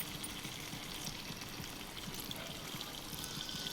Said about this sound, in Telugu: ఇప్పుడు తగినంత వాటర్ అయితే వేసుకుందాం.